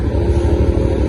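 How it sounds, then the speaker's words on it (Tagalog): Motorcycle engines drone loudly and continuously on a road at night, a dense, rumbling mix of several bikes passing close by with no speech. "Daming motor."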